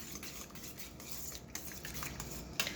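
Mixing lemon meringue pie ingredients in a bowl, a steady close scraping and stirring with soft clinks of a utensil against the bowl, no talking.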